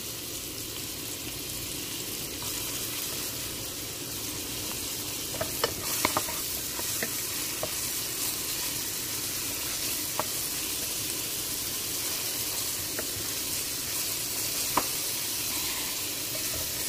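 Onion is stirred in a frying pan while making saluyot mulakhia, a steady hissing sizzle runs throughout with scattered light spatula taps and scrapes, and no voice is heard.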